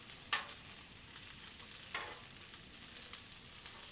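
Fajita peppers, jalapenos and onions sizzle on a 36-inch Blackstone griddle, a soft steady hiss broken by a couple of brief scraping stirs, fairly faint and with no voices.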